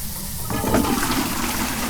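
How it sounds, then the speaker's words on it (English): A toilet flushes inside a house in the Phasmophobia ghost-hunting game, one rushing, gurgling surge of water that fills the moment loudly and up close, with no one talking. "Yeah, I think it flushed the toilet."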